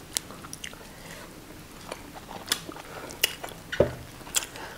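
Fried fish is chewed up close during a mukbang of banku and spicy pepper: wet, squishy mastication punctuated by sharp, irregular crunches and bites, with no talking.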